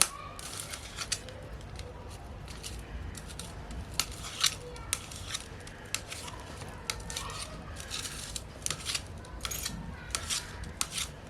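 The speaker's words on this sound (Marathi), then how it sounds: "ही अंडी पण आपल्याला अशी बारीकच तुकडे करायचे अंड्याचे" Knife blade repeatedly cutting boiled eggs into small pieces on a board, a steady run of light close taps and clicks with no talk.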